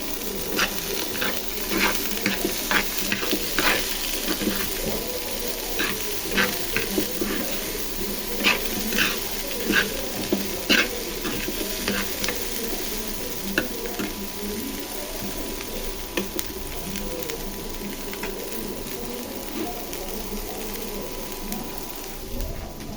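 Onion frying in a little oil in a home kitchen while being stirred, a steady close sizzle with repeated scraping clicks of the spoon against the pan, no talking.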